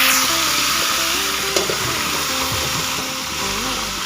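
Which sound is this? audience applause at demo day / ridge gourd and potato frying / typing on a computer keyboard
ridge gourd and potato frying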